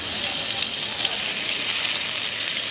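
Bay leaves dropped into hot oil in a pan while cooking fish, producing a steady close sizzle and frying hiss that holds through the whole stretch.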